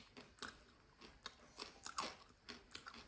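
Crunchy bites into leftover Filipino lechon baboy (roast pork) that has sat about two months in the fridge, with repeated close, sharp crackling crunches and chewing at a steady, uneven rhythm, no talk.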